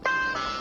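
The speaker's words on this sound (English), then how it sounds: "recognize the home of his friend Max, so he rang the doorbell." A single electronic doorbell chime at a house door, one bright sustained tone ringing out and fading over under a second.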